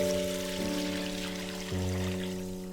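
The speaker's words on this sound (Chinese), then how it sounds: "加水没过红豆。" Water pours into a pot of red beans with a little brown sugar, a steady close stream running for about three seconds over a constant tonal hum.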